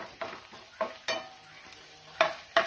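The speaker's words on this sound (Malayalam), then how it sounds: "ചൂടായ പാനിലേക്ക് ആദ്യമേ ഞാൻ തേങ്ങാക്കൊത്താണ് ഒന്ന് വറുത്തെടുക്കുന്നത്" Coconut pieces fry in a hot pan over a medium flame while being stirred, a soft background sizzle broken by several distinct scraping stirs spaced irregularly, fairly quiet and close.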